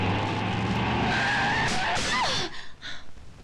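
Car tires skid with a long, loud squeal as the driver brakes hard, the screech bending and sliding for about two seconds before cutting off into quieter scuffing and a few short squeaks.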